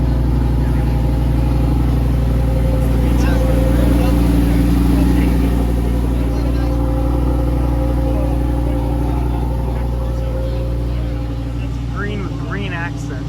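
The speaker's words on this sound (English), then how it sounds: "V10 dual exhaust out the back." A Lamborghini Huracan Evo V10 with dual exhaust runs steadily at close range, its deep sustained engine tone under continuous talk, easing slightly toward the end.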